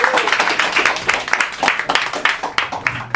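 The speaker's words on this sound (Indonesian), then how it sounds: "Beri tepuk tangan paling meriah untuk Dani Beler." An audience at a live comedy show claps for Dani Beler, a close, uneven patter of hand claps that comes in bursts.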